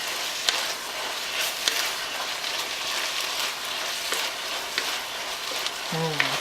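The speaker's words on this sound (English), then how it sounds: "You'll want to stir it around quick enough so that your noodles get covered with some of the sauce." Noodles stirred in sauce in a hot pan, with a steady sizzling hiss broken by occasional scrapes and clicks of the utensil, close up.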